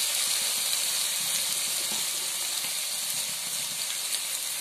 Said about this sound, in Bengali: দেখুন টমেটো গুলো বেশ একটু ভাজা ভাজা নরম নরম হয়ে এসছে।